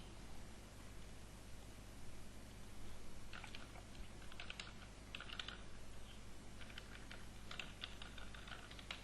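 A chart label is typed on a computer keyboard in soft, irregular clusters of keystrokes over a steady background hiss and hum, with no talking.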